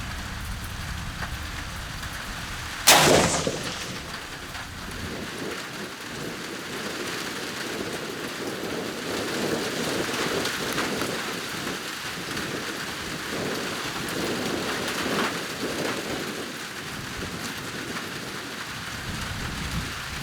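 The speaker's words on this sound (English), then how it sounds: "Looks like we're gonna have to walk out there in the rain." Steady rain pours outdoors at a shooting range, a continuous close hiss of drops on surfaces with a sharp crack near the start, and no talking.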